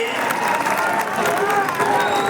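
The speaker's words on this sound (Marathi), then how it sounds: "आपल्या जोरदार टाळ्या या गोविंद पथकासाठी" A crowd at a Dahi Handi festival claps and cheers for a Govinda troupe's six-tier human pyramid salute in a dense, continuous burst of applause.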